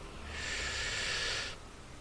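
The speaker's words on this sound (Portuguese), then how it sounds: "A gente inspira, segura" A person draws in a deep breath during a guided breathing exercise before prayer, one steady, close airy inhalation lasting over a second, then quiet.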